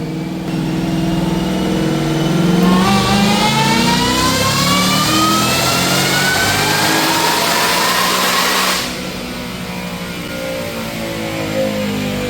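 A Roush-supercharged car engine on a dyno makes a loud, sustained pull, rising steadily in pitch with a supercharger whine and then dropping off abruptly near the end as the throttle closes.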